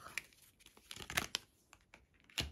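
Tarot cards being laid out and shuffled, producing soft papery rustles, crinkles and light flicks in a quick irregular series, faint and close.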